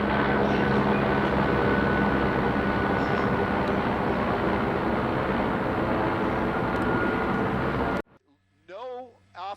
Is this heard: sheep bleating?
no